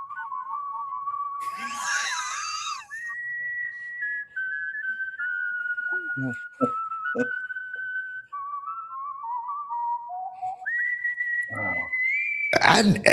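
A person whistles a tune with long held notes that step up and down in pitch, interrupted by brief bursts of laughter and background noise, close to the microphone.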